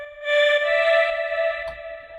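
A custom sampler instrument built from a single sample of a woman's sung middle C plays a sustained, steady vocal-like tone with bright stacked harmonics. It swells in and holds for about two seconds, with faint low rumbles underneath.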